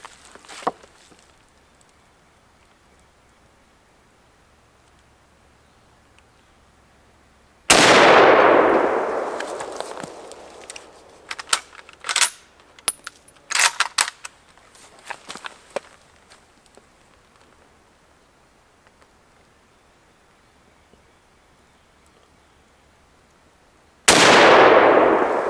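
Two loud rifle shots from a very long, heavy rifle at a shooting range, each a sharp crack followed by a ringing decay. A burst of metallic clanks from working the action comes between them.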